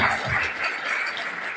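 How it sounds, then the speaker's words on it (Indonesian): Brief applause from an audience at a school cooperative quiz competition, a short burst of dense clapping that stays fairly loud throughout. "sekali lagi kita berikan tepuk tangan untuk"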